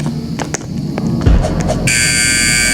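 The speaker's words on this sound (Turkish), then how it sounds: "Ana alarm attı kaç kaç." A video game alarm starts suddenly partway through, a loud steady electronic buzzing siren that fills the rest of the moment over faint earlier game sounds.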